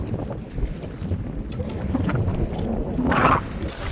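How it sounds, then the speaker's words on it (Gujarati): Strong wind buffets the microphone in a continuous low roar on a fishing boat at sea, with water and boat sounds churning underneath and no voices. "હવા આજે પવન પણ વધારે છે"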